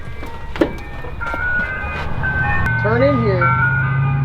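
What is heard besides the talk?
ice cream truck driving past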